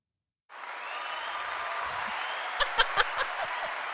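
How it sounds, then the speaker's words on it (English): A podcast studio audience breaks into applause after a brief silence, a steady moderate patter of clapping with a few sharper claps and soft chuckles near the end. "Does that really deserve applause?"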